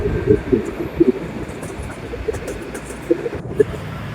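Steady rumble of a train rolling over the 1.7-kilometre dual-gauge Teesta railway bridge in Bangladesh, with rhythmic clanks from the wheels and a continuous low roar throughout.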